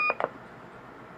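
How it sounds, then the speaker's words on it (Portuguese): Roger beep from an RP-80 radio set to AM, two short close electronic tones in quick succession, then a quiet hiss with no talking. "Então, Roger Bip."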